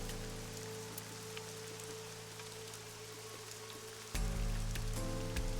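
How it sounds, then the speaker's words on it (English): Steady rain hisses across a city in the video game AI: The Somnium Files, with a low continuous hum underneath that grows louder and fuller near the end. "The rain is depressing."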